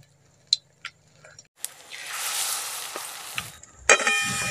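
Stuffed bottle gourd leaves with a small-fish filling, coated in batter, sizzle as they go into hot oil. Sharp clinks come first, then a loud frying hiss swells, fades, and another clatter follows.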